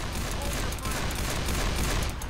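Dense gunfire in the video game Left 4 Dead 2, a loud, unbroken fusillade of rapid shots packed together and running the whole time, with no gaps between bursts.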